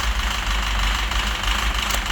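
A Citroën DS3 with a 1.6 engine idles with a steady low rumble and a faint knock running through it, constant and close-up, with no voices.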